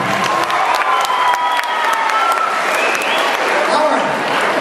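A young audience at an anti-bullying theater program claps and cheers, a loud, dense burst of applause mixed with high children's shouts and squeals, with some talk woven through the crowd noise.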